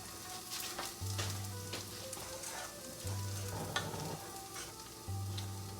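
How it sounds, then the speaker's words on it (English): Refried beans sizzle and fry in a pan as a utensil stirs and scrapes through them, with soft clinks and a steady low crackle up close. "Stir the refried beans up."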